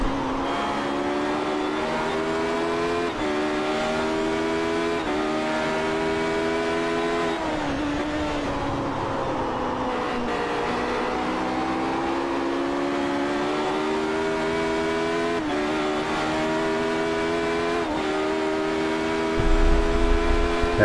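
Radical race cars circling Watkins Glen in a sim racing game, several engines droning together at high revs, pitches rising and falling through gear changes and corners, steady and loud throughout with no talk.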